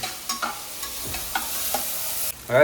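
Prawns fry for biryani in a hot pan, giving a continuous close sizzle broken by a few scraping stirs, with a louder burst of sizzling at the very end.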